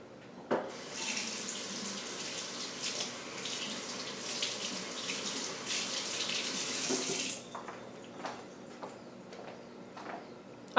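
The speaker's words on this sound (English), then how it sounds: "Let me wash my hands, guys." Tap water runs steadily into a kitchen sink during handwashing. The close, hissing flow lasts about seven seconds, then cuts off, leaving faint clicks and knocks at the sink.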